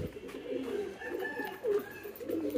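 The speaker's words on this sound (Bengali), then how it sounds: "সকালে কবুতর ছেড়ে দিয়েছি" Pigeons released in the morning coo close by, with repeated low throaty coos and warbles overlapping across a couple of seconds, and no talk.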